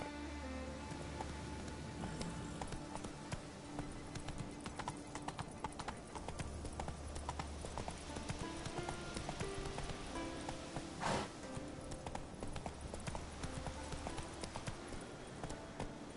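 Roach, a horse in The Witcher 3 video game, gallops with steady, rapid hoof clip-clops over a continuous game backdrop of music and ambience, with a brief louder burst near the middle and no talking.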